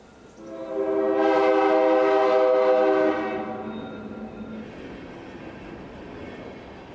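Train passing near a covered bridge by Otter Creek, its horn blaring a loud sustained chord for about two seconds, then fading as the rail rumble trails off into the distance.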